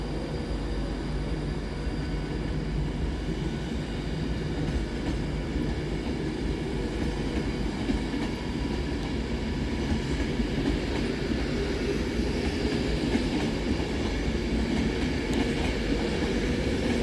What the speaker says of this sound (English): Departed over on the far side is 390153 with the 1852 Avanti West Coast service from Edinburgh Waverley to London Euston.